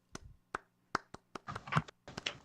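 A few people clap sparsely and unevenly, scattered single claps at first, then a brief cluster of quieter claps, close and faint in a small room.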